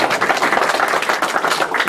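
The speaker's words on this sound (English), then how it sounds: "Clap again." An audience applauding at a port commission ceremony, dense steady clapping from many hands filling the room, loud and continuous throughout.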